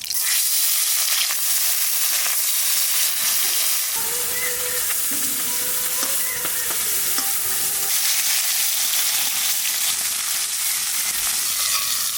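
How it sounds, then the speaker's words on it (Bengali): River bata fish rubbed with salt and turmeric frying in hot oil, a steady loud sizzle running the whole time with occasional stirring scrapes and faint tonal clinks, no talk. "তা প্রথমে লবণ হলুদ মাখাইয়ে ভাজে নেবো"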